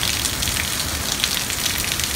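Heavy downpour in Nagoya during a torrential guerrilla rainstorm, a dense, loud and continuous roar of rain pounding surfaces with no pauses and no voices.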